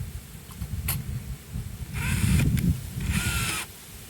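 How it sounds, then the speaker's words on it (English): A cordless drill drives a screw to fasten a mouse guard across a beehive entrance, giving a few short whirring bursts with a longer, louder run near the middle, close by and with no talking. "get our screw and our drill."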